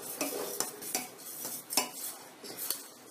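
A utensil stirs masala into sugar syrup for sweet and sour lemon pickle in a pan, giving a string of quiet metallic clinks and scrapes every half second or so, close but soft, with no voices.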